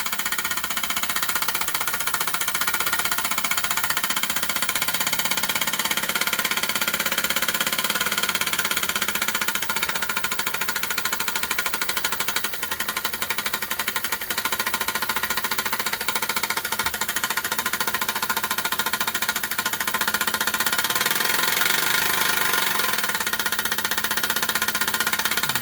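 A Mamod Minor model steam engine running, giving a steady fast mechanical chatter and hiss at an even level for the whole stretch, close up and without talk.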